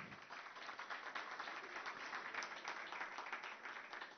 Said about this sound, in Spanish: vamos a darle el fuerte aplauso a la doctora